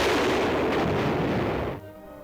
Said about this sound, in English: A new anti-tank weapon is the 106mm recoilless rifle